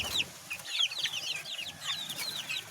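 Chickens clucking close by in a backyard coop where hens and chicks are kept, a steady run of soft, overlapping clucks and chirps with no voices.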